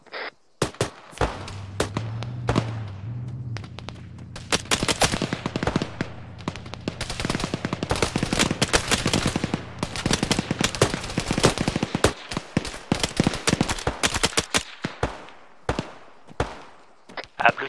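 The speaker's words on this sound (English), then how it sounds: "Suppressing fire." Dense bursts of automatic gunfire and single shots crack in rapid, irregular volleys during an Arma 3 island assault, loud and close, with a low engine-like drone early on and brief radio-style voices.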